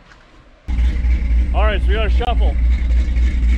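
A 1957 truck engine catches after a brief quiet start, then settles into a steady, loud, low idle rumble that continues to the end, with someone talking over it.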